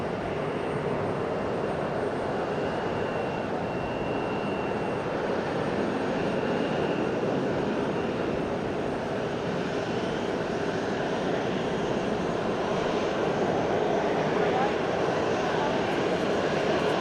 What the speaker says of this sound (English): There is an ANA taking off